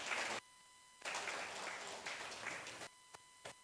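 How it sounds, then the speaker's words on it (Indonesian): Faint applause from an audience at a church service, coming in broken bursts separated by abrupt silences, with a few isolated claps near the end. "Kasih tepuk tangan."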